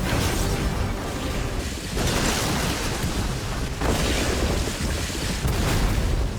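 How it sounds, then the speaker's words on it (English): Cartoon explosions during a chase scene in Rick and Morty roar loud and dense, with sustained booming blasts and rolling noise that fills the whole stretch, surging again at a few points. "explosions that could make Michael Bay cry"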